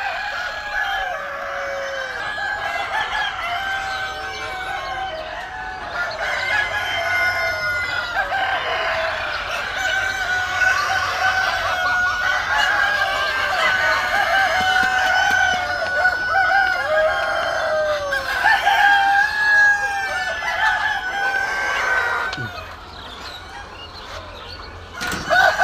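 Tall high-super breed chickens and roosters on a poultry farm, a dense chorus of clucking and repeated crowing from many birds, near and loud, with occasional wing flapping.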